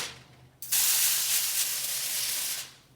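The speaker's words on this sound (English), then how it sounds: "I'm going to spray this just lightly on top here" A short pause, then a steady, hissing spray of cooking spray onto a stuffed pork loin for about two seconds, close and even, before it cuts off.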